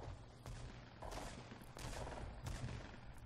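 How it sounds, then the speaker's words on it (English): Gunfire in a Fortnite Battle Royale solo match crackles in several sharp bursts, a few loud shots with short gaps between them, and nobody talks. "Oh, more shots."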